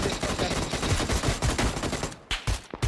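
Rapid automatic gunfire in PUBG crackles in dense bursts, loud and continuous before breaking into a few separated shots near the end.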